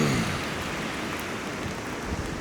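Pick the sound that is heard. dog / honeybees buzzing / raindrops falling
raindrops falling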